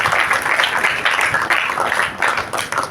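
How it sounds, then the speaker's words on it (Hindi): Sustained audience applause fills a school sports event's concluding ceremony for a district basketball tournament, a steady dense wash of many hands clapping close and loud for about three seconds with no speech over it. "जोरदार तालियां बजाइएगा"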